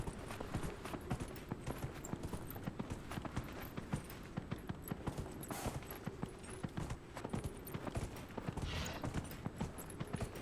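Horse hooves clip-clop at a steady walking rhythm in a video game, close and continuous, with busy game sounds layered underneath throughout.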